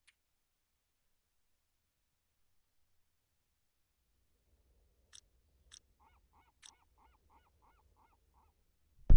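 In The Long Dark video game, a distant creature lets out a few short, faint honking squawks in a quiet, mostly silent scene, ending with a sudden loud thump.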